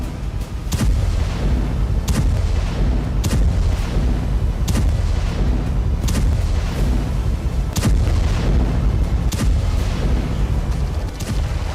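Israeli airstrike explosions pound a Hamas target in Gaza, a dense continuous barrage of loud booms and blasts recurring roughly every second over a constant heavy rumble.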